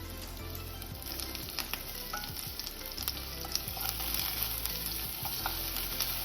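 Ginger-garlic paste sizzles loudly in hot oil with chopped onion for egg chicken fried rice. The frying hiss is continuous and close, broken by occasional stirring clicks, and there is no talking.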